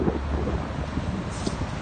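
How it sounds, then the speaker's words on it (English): Wind buffets the microphone on a motorcycle ride along an Osaka freeway, a dense, unbroken roar with no clear separate vehicle passes. "I don't know if you can hear me with all the wind and the noise of the trucks"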